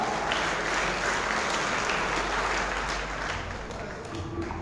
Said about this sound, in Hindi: एक बार जोरदार तालियों के साथ स्वागत करें उन प्रतिभाओं का